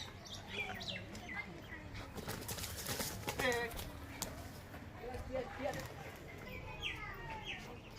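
Pigeons in a loft, including Giribaz and large Chini Kaldum birds, give soft coos and chirps at close range, with scattered flutters. People talk over the birds.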